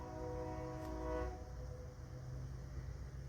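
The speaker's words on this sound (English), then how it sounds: "Can you guys tell I live by a train?" A train passes near a house, heard as a faint, distant rumble with a brief horn-like tone early on, then a low steady roll continuing alone.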